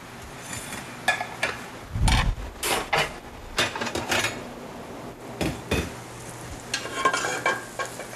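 Fish browning in a hot pan sizzles quietly while utensils stir, scrape and clink against the pan in irregular bursts, close and fairly soft.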